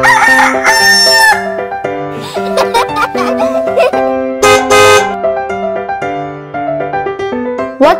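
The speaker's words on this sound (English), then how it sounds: "And the sound of the rooster is..." A rooster crows once over steady background music, the call loud and close, with a long, drawn-out harmonic rise and fall.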